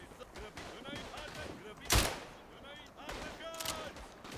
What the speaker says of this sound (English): Nice to see the artillery finally joining this party.